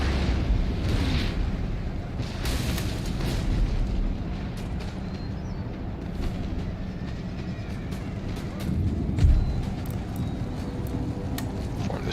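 Artillery fire in an Empire Total War battle: a dense, continuous wash of distant cannon booms and bursts, with a louder thump near the ninth second, over a rumbling battlefield bed.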